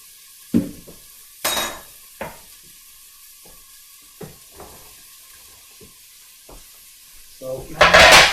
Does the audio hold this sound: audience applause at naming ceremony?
no